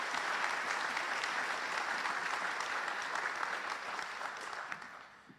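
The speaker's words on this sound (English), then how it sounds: "Je vous prie d'applaudir le président de l'université." University audience applauding its president at a ceremony, a dense steady round of clapping from many hands that holds for several seconds and then tapers off.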